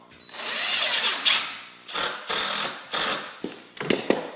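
A power drill drives screws through a door hinge while a door is fitted and shimmed in an off-grid cottage, giving several short whirring bursts with brief pauses between them, close and fairly loud.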